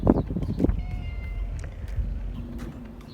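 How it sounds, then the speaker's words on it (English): A domestic cat meowing close by outdoors in a container garden, two or three loud meows at the start and then quieter outdoor background noise, with no talking. "Oh my gosh, you're so vocal. This is just one of the local kitties."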